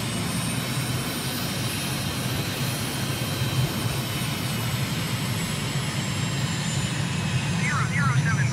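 Steady drone of an airplane engine during a landing approach in Microsoft Flight Simulator, a constant broadband roar with no change in pitch, while a voice talks over it.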